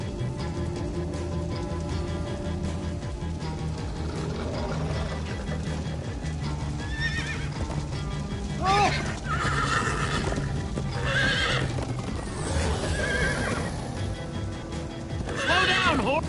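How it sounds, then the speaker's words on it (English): A horse in Minecraft Story Mode whinnies several times, high shrill neighs rising over a steady clip-clop of hooves and a low rumbling backdrop, with game music underneath. "Slow down, horse!"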